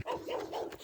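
A small dog gives a quick series of three or four close, soft barks in a short rhythmic burst.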